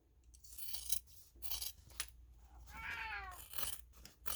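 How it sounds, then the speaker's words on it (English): A single drawn-out cat meow near the middle, close and fairly quiet, surrounded by small clinks and rustles. "Have your cat meow at you."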